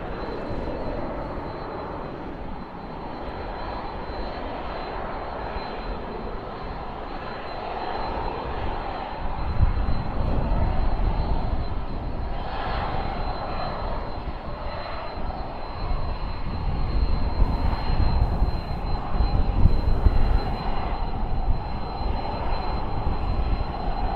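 A United Express Embraer E175LR regional jet at Dallas/Fort Worth International Airport at night gives off a continuous engine roar with a steady high whine, swelling louder midway and staying strong, heard from some distance with no talking.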